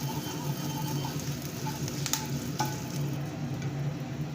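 A spoon stirs lemon rasam with turmeric and asafoetida in a pan of hot tempering with dried red chillies and curry leaves, giving a steady soft sizzle with a couple of light scraping clicks.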